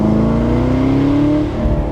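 A V8-swapped Mazda Miata ND on a mountain road, its engine revving up in a rising, rumbling pitch sweep that peaks and drops off after about a second and a half.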